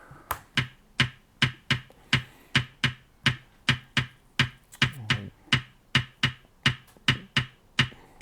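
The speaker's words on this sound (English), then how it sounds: "Some snare." Crisp snare hits in a reggaeton beat, a steady run of sharp dry snaps repeating evenly and close, one slightly busier moment midway, with no voices.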